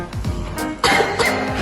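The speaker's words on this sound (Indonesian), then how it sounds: "Ini adalah contoh batuk yang salah" A person gives a few short, uncovered coughs at close range, a series of sharp bursts, shown as the wrong way to cough.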